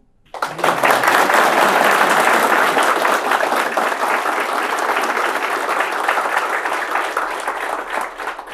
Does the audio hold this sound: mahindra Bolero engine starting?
no